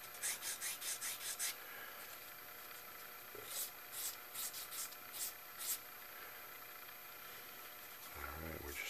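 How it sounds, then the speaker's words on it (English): Rapid rubbing strokes of a homemade 220 grit sanding stick, made from a popsicle stick, on a small wooden part of a free flight model plane, soft and close, in bursts with pauses. "That's my little 220 grit sanding stick that I made out of a popsicle stick."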